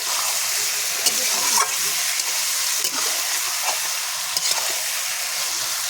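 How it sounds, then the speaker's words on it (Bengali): A fish dish sizzles in a frying pan while a utensil stirs it now and then, sharp scraping strokes breaking through the constant hiss a few times. "নাড়া দিচ্ছে এখন, মাঝে মাঝে একটু নাড়া দিয়ে দেখতে হবে লেগে গেল নাকি তলায়।"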